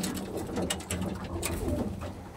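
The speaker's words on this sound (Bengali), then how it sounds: "মাদারা বন্ধুরা আমার পালসার ব্রিডের পায়রা, এটা ছাপকা জেনারেশন।" Pulsar-breed pigeons of the chhapka generation coo in a loose, low rolling murmur that is steady and fairly close, with no voices over it.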